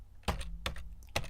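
Computer keyboard keys pressed three times in quick succession, crisp close-up clicks over a faint background hum.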